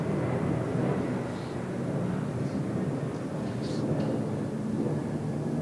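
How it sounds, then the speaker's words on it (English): Airplane passing overhead during a conference talk, a steady broad roar filling the whole stretch, loud and constant with no distinct onset or fade. "I'm not sure where this plane is going"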